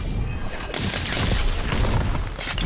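Spell explosions from the Harry Potter Magic Awakened video game crack and boom in rapid succession, a loud burst of blasts and crashing debris that swells after a short lull and fades near the end.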